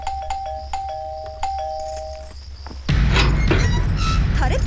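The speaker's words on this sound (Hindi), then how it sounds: "कोई दरवाजे पे बेल बजा रहा है" A doorbell at a home's front door in a Hindi comedy film scene chimes several times in quick succession, clear and close, before the scene turns loud and busy with noise.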